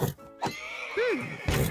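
A single horse whinny from the video game Minecraft, a short rising and falling neigh in the middle, with soft thuds and clicks before and after, fairly quiet and alone.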